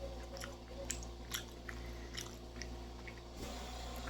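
Dehydrated sausage stick, a slow-roasted hot dog, chewed up close in a series of soft, moist bites with little crunch, steady throughout against a low background hum.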